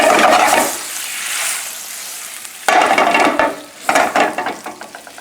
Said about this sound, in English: now I'm going to deglaze the pan